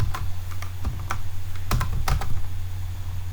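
Keys tapped on a computer keyboard in short bursts, a few quick clicks and then a pause, close by over a low steady hum.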